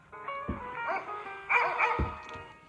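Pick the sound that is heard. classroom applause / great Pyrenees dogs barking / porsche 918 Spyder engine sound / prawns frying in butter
great Pyrenees dogs barking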